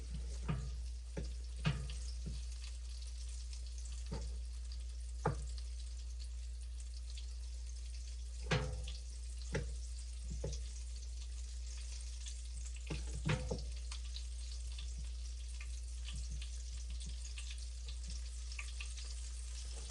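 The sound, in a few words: venison frying in a cast iron pan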